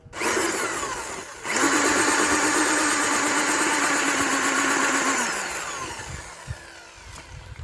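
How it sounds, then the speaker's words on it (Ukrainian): A loud rotary hammer drill whirs steadily for several seconds with a buzzing, grinding tone, making odd sounds, then winds down and stops, leaving quieter background noise. "Перфоратор видає дивні звуки, але буря"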